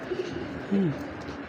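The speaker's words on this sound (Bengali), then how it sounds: "অরিজিনাল জনসনের একটা কবুতর" An original Johnson breed male pigeon, large and lightly moulting, gives a single short low coo, near and clear against quiet room noise.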